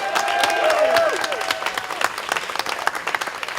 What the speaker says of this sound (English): I think we need to give this block another round of applause for an excellent job.